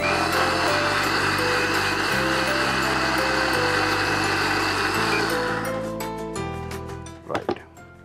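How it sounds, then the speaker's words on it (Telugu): An electric blender runs steadily for several seconds blending a carrot and banana smoothie, a dense whirring buzz that shifts pitch slightly as the mix thickens, then winds down near the end with a brief clink. "ఇదే వీలైనంత స్మూత్గా రావాలి కాబట్టి ఎక్కువసేపు బ్లెండ్ చేయాల్సి వస్తుంది"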